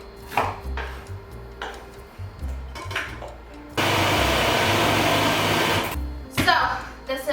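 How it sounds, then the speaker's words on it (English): An onion being chopped for acaraje, in short bursts of knife strikes on a board, broken by a steady loud blender run in the middle, with a voice speaking over parts of it. "And I'm gonna chop this onion, blend those 2 things together to make a paste."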